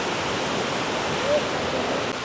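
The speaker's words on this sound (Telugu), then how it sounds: "పై నుంచి వస్తున్న ఈ వాటర్ అన్నీ చూసుకుంటే సో ఇట్నే డౌన్కి అయితే వెళ్ళిపోతున్నాయి అన్నమాట" Kuang Si waterfall in Luang Prabang pours from above in a constant, dense roar of falling water, loud and close with no break.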